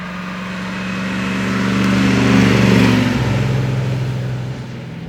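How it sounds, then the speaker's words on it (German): A 1958 BMW 507 Series II eight-cylinder engine running steadily, a deep even hum that swells slightly and then settles, heard close with no talking. "Ich höre das auch am Motor, dieser schöne 8-Zylinder-Sound."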